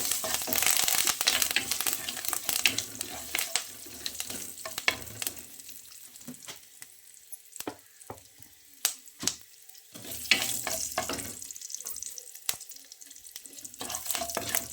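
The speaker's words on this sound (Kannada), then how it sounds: "ಒಗ್ಗರಣೆ ಬೇವಿನ ಸೊಪ್ಪು" Curry leaves crackle and sizzle in hot cooking oil for a masala peanut tempering, loud bursts of spitting that die down briefly and flare again, with stirring scrapes in the pan.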